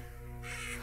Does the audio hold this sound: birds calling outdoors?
yes